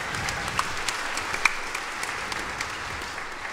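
Audience applause with a steady wash of clapping and scattered sharper claps, fairly near and sustained, following a folk music performance by Bugge, Lamb, Jensen & Høirup at the Nisswa-stämman folk festival's 20th anniversary.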